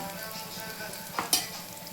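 Chopped onions and fenugreek leaves fry in hot oil with turmeric, giving a steady close sizzle with a couple of sharp spatters and utensil scrapes near the end, no voices.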